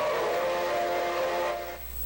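A Lionel model train sounds its whistle in a steady, sustained tone, fairly loud and close, fading slightly at the end with no talking.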